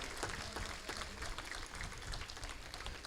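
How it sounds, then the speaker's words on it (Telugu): A church festival audience applauds together, a dense, steady wash of many hands clapping that holds at an even level throughout, with no voices standing out. "గట్టిగా చప్పట్లు కొడదాం"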